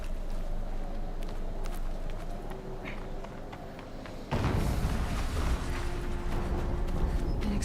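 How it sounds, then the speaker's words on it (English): A single loud explosion in Horizon Zero Dawn erupts partway through, leaving a heavy sustained roar behind it in place of the quieter rumbling ambience that came before. "An explosion."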